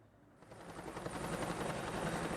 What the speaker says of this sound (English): This is police helicopter.